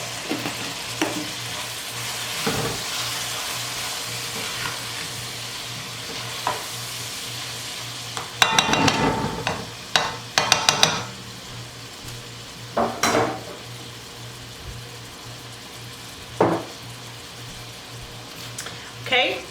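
Spoonful of sofrito frying in a pan for Dominican arroz consomé, a soft continuous sizzle close by broken by several sharp clattering spoon stirs, with talking in between.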